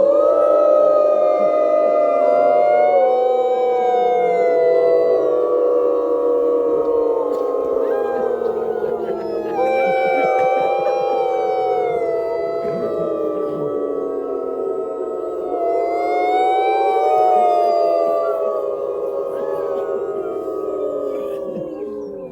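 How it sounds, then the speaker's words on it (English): Wolves and a crowd of people howl together at a wolf park howl night, a dense, sustained chorus of long rising and falling wails, loud and layered throughout. "You guys want to do one more howl to close it off?"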